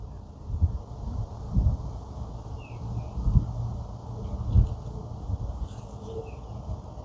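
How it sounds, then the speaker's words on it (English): Steady outdoor wind blows in a backyard with low rumbling gusts buffeting the microphone, rising and falling every second or so, with faint birds in the background. "you can see how windy it is"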